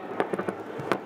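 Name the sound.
July 4th fireworks grand finale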